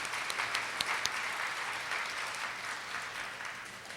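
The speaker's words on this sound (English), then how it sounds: "Yeah, we can clap for that." An audience at the OUT Georgia Community Honors claps steadily, a dense even wash of applause with a few sharper individual claps standing out.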